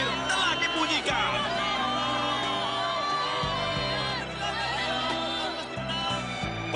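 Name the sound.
crowd cheering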